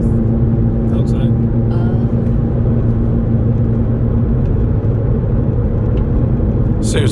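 Car climbing the Mt. Rose Highway, a windy uphill mountain road, with steady low engine hum and road roar throughout, close and constant, and brief faint higher noises near the start and end.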